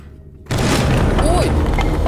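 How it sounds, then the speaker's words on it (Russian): In the horror video game Madison, a sudden deep boom erupts out of quiet and sustains as a dense, loud rumble. "Да хватит меня пугать, такие вообще взрывы."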